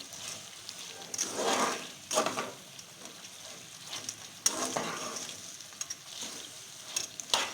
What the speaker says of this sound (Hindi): इसको तकरीबन 2 मिनट अच्छी तरह से भून लेंगे